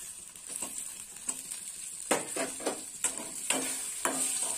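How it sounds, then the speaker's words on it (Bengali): Tomato sizzles and fries with chili powder and spices in a pan, with a steady hiss and several distinct scraping stirs of a spatula, close and alone. "টমেটোটাও একটু এর সাথে কষা হয়ে যাবে।"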